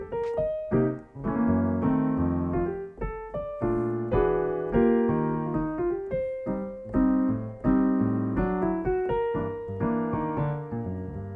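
Jazz piano voices rich chords built from two chord shapes, struck in a steady flowing sequence with a moving melody on top. The playing is clear, close and without speech.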